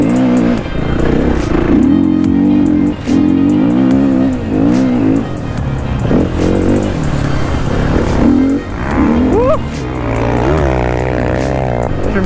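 Motocross bike engine at a beach training track, revving hard and accelerating loud and close with rising and falling pitch over sustained running.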